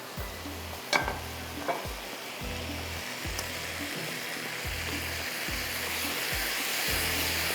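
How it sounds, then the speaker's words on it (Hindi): Liver (kaleji) roasts over high heat in a pan, a continuous loud sizzle and hiss with a low rhythmic churning pulse beneath and a couple of sharp utensil clicks early on. "ये कलेजी जो है मैंने इसको तेज़ आग पर भून लिया"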